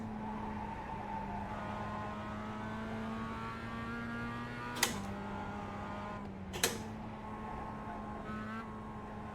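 A Mazda MX-5 race car at the Nordschleife in iRacing holds a steady engine drone at near-constant revs, close and continuous, with two brief sharp knocks partway through.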